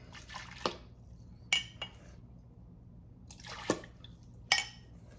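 Water drawn off the bottom of rendered beef tallow trickles and drips into a measuring cup, with a few sharp clinks and splashes standing out over a soft, steady background, no talking.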